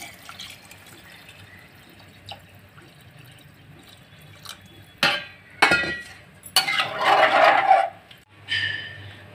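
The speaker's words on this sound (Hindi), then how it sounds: "अभी मैं इसमें पानी ऐड कर रही हूँ।" Water pours into a pot of rice in a pressure cooker with splashing, trickling bursts, preceded by faint clinks of a spoon and utensils in a home kitchen.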